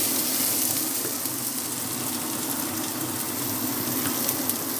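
Sliced onions and a bay leaf fry in hot oil in a pan, giving a continuous soft sizzle and hiss at an even level, with no voices.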